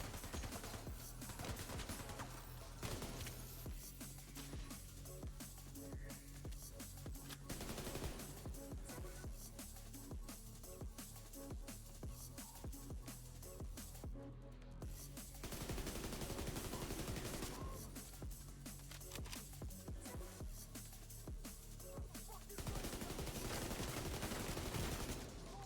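Heavy, nearly continuous gunfire in The Division 2, overlapping bursts and rapid volleys that rise and fall in density over a long exchange, loud and close, with brief lulls between bursts.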